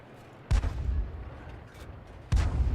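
A 105 mm leFH18B2 artillery gun fires twice in a video game, each shot a loud, sharp boom followed by a brief rumbling tail, spaced about two seconds apart over a low steady background.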